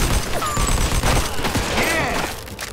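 Gunfire in the Mafia 2 Definitive Edition video game, a dense, continuous barrage of shots and booms over about three seconds, loud and close, with game voices and effects mixed in.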